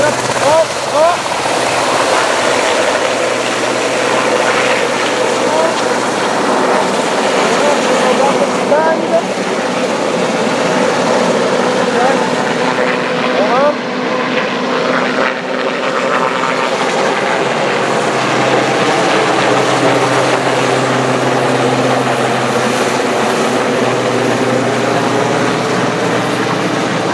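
A large radio-controlled helicopter lifts off and throttles up, its rotor and motor making a loud, steady whirring drone that rises and shifts in pitch, with brief talk over it.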